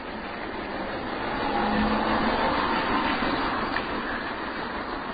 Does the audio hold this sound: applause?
no